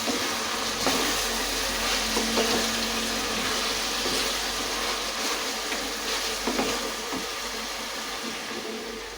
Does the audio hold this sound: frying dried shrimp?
yes